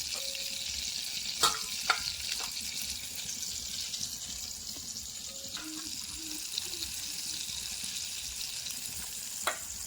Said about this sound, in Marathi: आता राजू दादा तळता